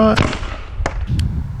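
Rifle shots at target practice, a few sharp cracks heard close by, with a person talking around them.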